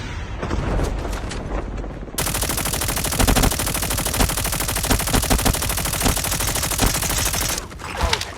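Rapid sustained automatic gunfire in the mobile shooter Call of Duty Mobile, loud and dense, starting with scattered shots then a continuous burst for several seconds before tapering off.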